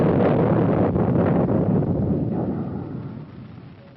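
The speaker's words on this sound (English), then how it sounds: "the U.S. Navy test-fired the ship-to-air Talos guided missile" A U.S. Navy Talos ship-to-air guided missile fires at a test range, a deep, loud roaring rumble that fills the air and slowly fades over a few seconds.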